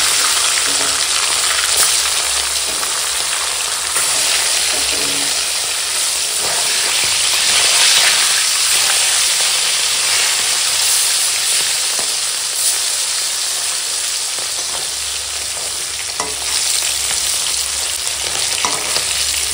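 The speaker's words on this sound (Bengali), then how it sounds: "তো চলো তেল গরম হয়ে গেছে, এখন মাছ ভেজে নেবো।" Fish marinated with salt and turmeric fries in hot oil, a loud, steady, dense sizzle and crackle that runs without pause throughout and is close up, with no voices.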